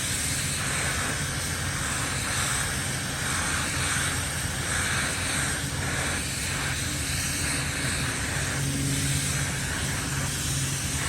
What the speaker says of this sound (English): we're about to put the last coat on the headlights and the fog lights